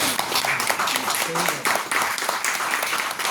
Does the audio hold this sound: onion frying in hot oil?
no